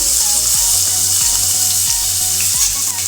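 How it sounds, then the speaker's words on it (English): Slices of bitter gourd shallow frying in hot oil give a steady, close crackling sizzle, with faint clinks of stirring now and then. "We have to shallow fry it very nicely so that it becomes very crispy."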